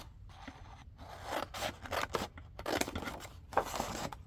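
Scissors snip through paper for a junk journal envelope, a close series of crisp cuts and rustles in uneven bursts, with no voices.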